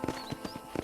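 A few quick, uneven galloping hoofbeats from a horse in the video game Red Dead Redemption, fairly faint, with a soft background drone and no voices.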